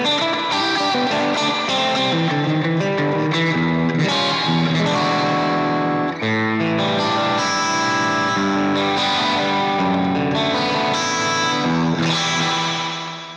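An electric guitar plays a fuzz tone through an Axe-Fx, with impedance set at 90K and a cap for cleanup, producing a thick, sustained chordal passage that stays loud throughout.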